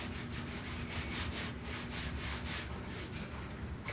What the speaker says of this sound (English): I'm going to pull most of the tape off